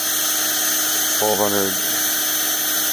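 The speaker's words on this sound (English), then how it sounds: "we'll start the drill, put some load on the load cell, crank it up" An electric drill runs under load on a saw dynamometer with a load cell, giving a brief rising whine about half a second long with clear harmonics against background hum, while a voice speaks.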